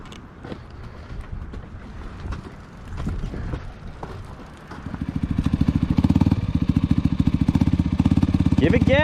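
An old two-stroke dirt bike first ticks and clatters mechanically under some voices, then settles into a loud, rapid, buzzing engine pulse that keeps running at a steady pace.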